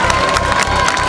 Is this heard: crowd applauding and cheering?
yes